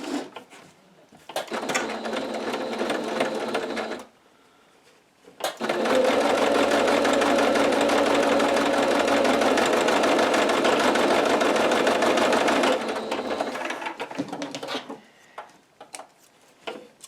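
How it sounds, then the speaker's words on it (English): Sewing machine stitching cotton apron fabric pieces together, a loud steady mechanical whirr in two runs, the longer lasting about seven seconds, with clicks and handling noises between. "I'm gonna go sew these together."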